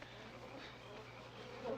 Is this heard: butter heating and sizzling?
no